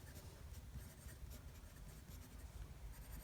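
A fountain pen's medium nib, inked with Lamy Black, glides across paper in a faint, continuous soft scratching with a close, quiet texture throughout.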